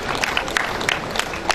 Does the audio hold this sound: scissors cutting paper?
no